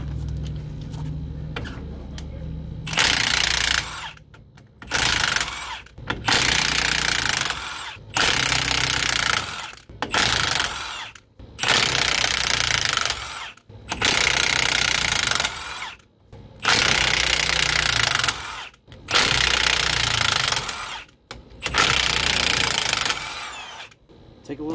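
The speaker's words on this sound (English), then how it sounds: "we'll rip these axle bolts out" A power tool removes the rear axle bolts from a vehicle's rear end. It runs in about eight loud, separate bursts, with short pauses between them.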